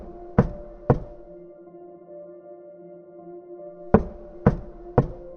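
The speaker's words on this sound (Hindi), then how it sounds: "फिर तीसरी रात खटखटाने की आवाज़ फिर से आई" Sharp knocks on a door in a quiet room at night, a pair of raps followed after a pause by three more, close and distinct over a faint steady hum.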